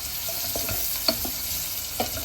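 Chopped food sautéing in a pan at home, a steady close sizzle with scattered stirring scrapes and light clinks, no talking.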